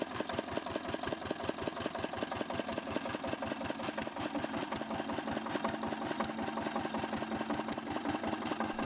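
A Snow 600-HP diesel engine made in Rijeka runs steadily on its own with an even, fast rhythmic thumping and knocking throughout, loud and close.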